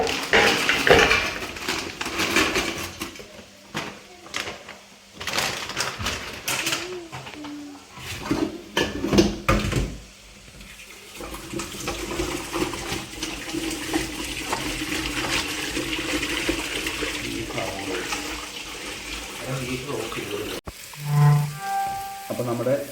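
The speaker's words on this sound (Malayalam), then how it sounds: "അപ്പം നമ്മളിത് കട്ട് ചെയ്ത് കഴുകി എടുക്കാനായിട്ട് പോവാണ്." Frozen tapioca is cut and washed in a kitchen, with running water from a tap, splashing, and clinks and knocks of a knife and pots, close up and uneven, with occasional quiet speech.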